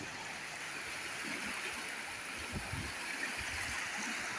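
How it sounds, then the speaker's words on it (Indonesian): Fast-flowing river water rushes in a steady, even hiss close by at a fishing spot in Aceh, continuous and alone with no talk over it. "Airnya pun kencang kali harusnya"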